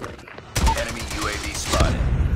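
Rapid automatic gunfire erupts in a Call of Duty match, a dense burst of shots that keeps going after a quiet start, loud and close, with a player's voice mixed in.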